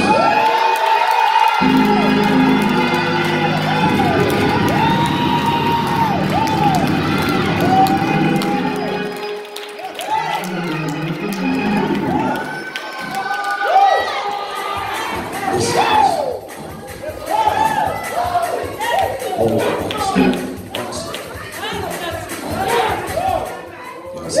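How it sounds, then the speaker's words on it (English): A church congregation of people under 50 shouts and cheers loudly, a dense roar of voices and whoops with children's cries mixed in, sustained throughout with surges and peaks. "Everybody under 50 make some noise."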